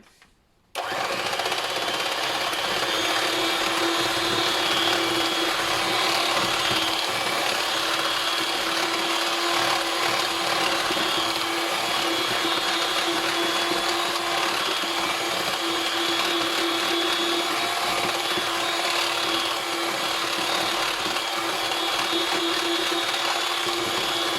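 An electric mixer beats shea butter chantilly with aloe vera, switching on abruptly and then running at a steady, loud whirring drone for over twenty seconds, with no talk.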